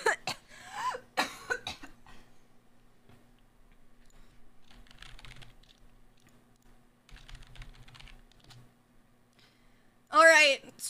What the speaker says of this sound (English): Can you stop coughing?